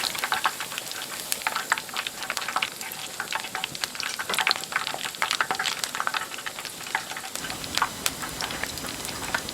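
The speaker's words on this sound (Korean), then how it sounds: "불은 중불 혹은 약불에서 두릅을 튀겨야 합니다" Aralia shoots (dureup) deep-frying in oil over medium-low heat, giving a steady, close, crackling sizzle with dense popping bubbles that continues evenly throughout with no talking.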